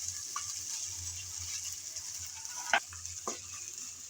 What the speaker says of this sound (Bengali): সেজন্য নেড়েচেড়ে ভেজে নিতে হবে।